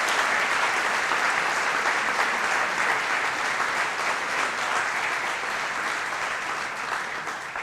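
Sustained applause from a large audience at a chamber of commerce awards ceremony honoring finalists and winners, a dense, even roar of clapping that holds steady for several seconds before easing slightly at the end.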